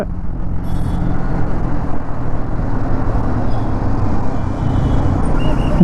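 A Yamaha XSR 155 motorcycle on the move, its engine droning steadily through the ride with a continuous low rumble and wind noise over about six seconds, and shifts not clearly picked out.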